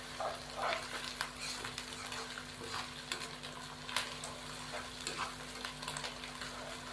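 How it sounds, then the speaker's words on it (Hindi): Ginger garlic paste sizzles in hot oil with cinnamon pieces and black peppercorns, a steady crackling fry broken by occasional stirring scrapes and clinks, close and moderately quiet, with no talking. "अदरक लहसुन के पेस्ट के साथ ही मैं 2 टुकड़े दालचीनी के और 8 से 10 दाने काली मिर्च के शामिल कर दूंगा और इसको हम 2 से 3 मिनट भून लेंगे।"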